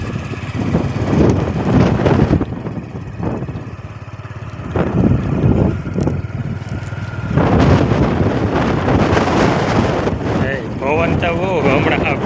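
Strong wind buffets a microphone on a moving vehicle, loud gusty roaring that rises and falls, with people talking between and over the gusts.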